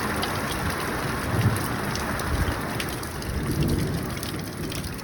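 Heavy rain pours down in a dense, continuous hiss with irregular pattering on surfaces nearby, swelling slightly in bursts, with no voices over it.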